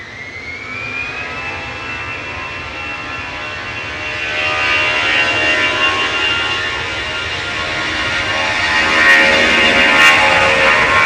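Lufthansa jet airliner departing Manchester Airport for Munich, its engines building into a loud, sustained roar that swells and holds steady, with a whining tone riding over the broad rumble.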